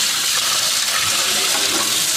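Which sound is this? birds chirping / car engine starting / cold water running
cold water running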